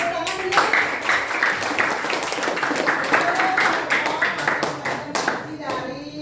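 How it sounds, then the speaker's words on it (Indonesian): Applause and hand clapping from a school group after a closing Hindu prayer at a teacher-training presentation, a steady dense patter of many hands lasting several seconds, with some voices mixed in before it tapers off. "Tepuk tangan dulu."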